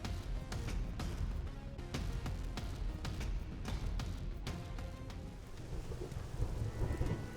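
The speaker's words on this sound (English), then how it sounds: "Well, it's raining." Steady heavy rain in the video game Xenoblade Chronicles X, a dense continuous patter with faint rumbling thunder underneath, constant throughout and without voices.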